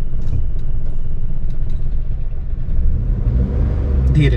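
A car engine rumbles and accelerates during a driving lesson, a close, continuous mid-pitched drone that swells and revs up slightly toward the end, with no talking.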